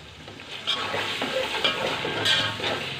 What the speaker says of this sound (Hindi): इनको अच्छी तरह भून लेंगे।